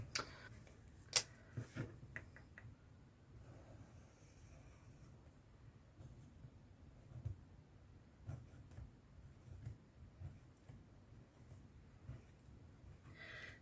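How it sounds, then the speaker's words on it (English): A pen doodles on a junk journal page with faint, scattered scratches and small ticking taps, quiet and close, spread unevenly across the stretch with brief pauses. "I could do some more doodling"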